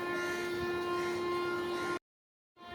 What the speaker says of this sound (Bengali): একটা ট্রেন ঢুকছে